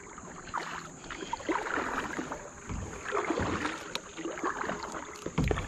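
Kayak paddles dipping and pulling through the water of the North Raccoon River, steady rhythmic splashes and drips close by, with light wind noise on the microphone.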